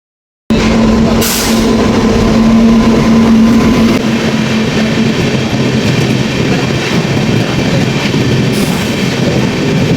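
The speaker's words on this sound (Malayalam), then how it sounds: "we are waiting for my train" A train rolls past on railway tracks in Kerala, loud and close, with a continuous rumble and rhythmic wheel clatter that steadies after a shift in pitch, and no talking.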